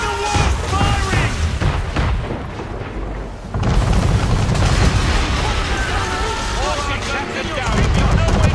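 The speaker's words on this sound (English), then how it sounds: "Man of war firing!" Cannon fire from a man-of-war warship in the Assassin's Creed 3 naval battle, heavy booming blasts amid loud battle din, with shouting voices over the gunfire.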